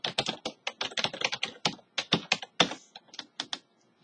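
Keys clatter on a computer keyboard as a ping command is typed, a quick, close run of crisp individual taps in short bursts with brief pauses between them.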